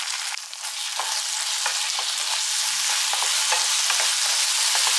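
Mushrooms sizzle in a pan with tomato ketchup, chili flakes and salt, a dense steady frying hiss broken by repeated stirring scrapes and crackles, close and continuous with no talking.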